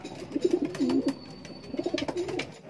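Soft, low coos from a racing pigeon arriving home from a 75 km race repeat in two short bouts, fairly close and quiet, with faint background noise and clicks.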